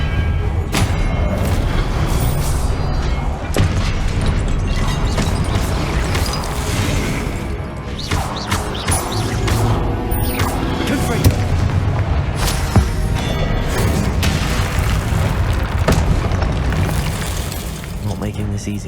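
Booming blasting-spell explosions from Hogwarts Legacy erupt over a dense, continuous game soundtrack of mechanisms, thuds and rumbles, loud and sustained across the whole span.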